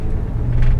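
Rough idle of a 2003 Mazda Tribute engine, a brief, uneven low rumble with a slight pulsing, heard close and alone.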